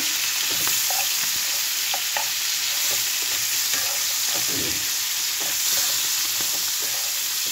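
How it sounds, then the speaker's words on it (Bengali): Bangladeshi shrimp fry in a pan for a simple bhuna, with a loud, dense, even sizzle throughout, broken by occasional light stirring clicks. "আজকে হলো গিয়ে চিংড়ি মাছ রান্না করবো"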